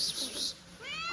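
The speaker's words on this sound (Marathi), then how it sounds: "हे मांजर आहे आमच्या घरातलं मित्रांनो" A house cat in a village home lets out a soft meow that rises in pitch at the end, brief and close but fairly quiet.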